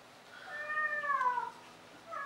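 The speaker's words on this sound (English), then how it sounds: "Excuse the cat noises. She sometimes just goes through the house and yowls" A female house cat yowls indoors with a drawn-out, wavering meow lasting about a second, followed by a shorter second call, fairly close but quiet in a calm room.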